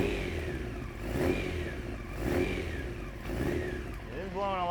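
A 1993 Honda CBR900RR motorcycle engine starting for the first time in a garage, with no choke and the idle raised: the engine runs roughly and swells into three slow revs, loud and close, while a voice speaks briefly near the end.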